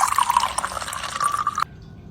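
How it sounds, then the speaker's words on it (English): Water pours into a bowl for about a second and a half, a close, bright splashing fill that stops abruptly, followed by quiet. "Now pour some water into a bowl."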